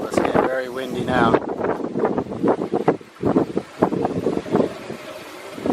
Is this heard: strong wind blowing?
yes